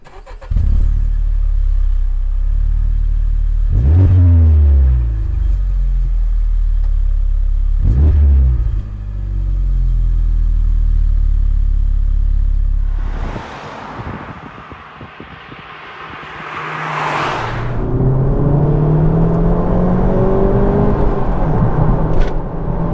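Honda Civic Type R GT with a 2-litre VTEC turbo engine producing 316 bhp, starting and revving twice loudly up close before driving off, engine note rising and falling through gears with wind and road roar, no talking.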